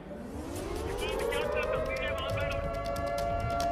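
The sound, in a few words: air raid sirens in Israel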